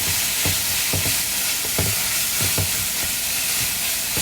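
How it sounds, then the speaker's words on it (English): Tuna stir-fried with chili for spicy tuna fried rice, a steady close hiss of sizzling oil with regular scraping knocks of a spatula mixing in the pan. "here I'm going to add in my tuna. So just add in everything inside. And give it a quick mix."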